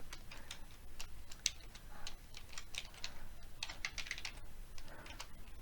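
Fingers type on a computer keyboard in quick, uneven bursts of clicky keystrokes, close and fairly quiet, with no talking over them.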